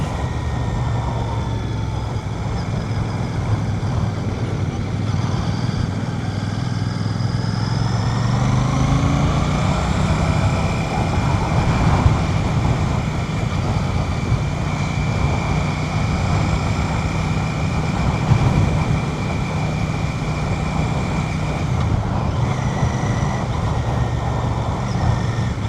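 A Royal Enfield Classic 650 motorcycle rides along a road, its engine droning steadily under heavy wind rush, with throttle being eased on and off so the engine note rises and dips slightly.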